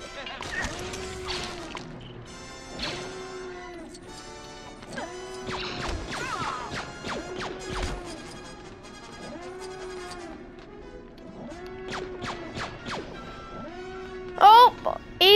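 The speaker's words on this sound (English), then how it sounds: "More explosions!" Repeated crashing explosions and impacts in Lego Star Wars: The Skywalker Saga during the Death Star destruction, with recurring electronic game tones, under a young voice chattering excitedly throughout.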